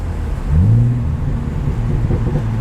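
A BMW sports car engine blips up in a quick rev-matching rise during a downshift on a winding road, then settles back into a steady, close engine drone.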